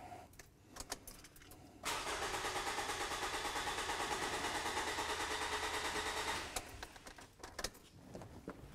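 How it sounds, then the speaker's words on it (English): A car engine cranks with its fuel system disabled, so the starter turns it over in a steady rhythmic whir for about four and a half seconds without firing, with keys and small handling noises before and after. "Disable the fuel system, start the scope, and crank it over."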